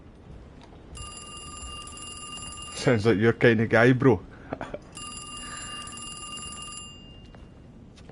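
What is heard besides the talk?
telephone ringing in video game Alone in the Dark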